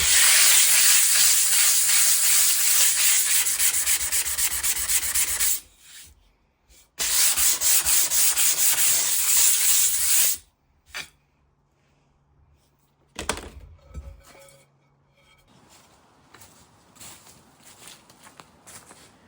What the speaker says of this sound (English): you come in with a 400 grit diamond sandpad tool, like this one here, and just work over the surface of the kiln shelf, polishing it back